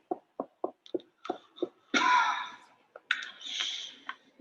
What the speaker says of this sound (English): desperate running, heavy breathing, and coughing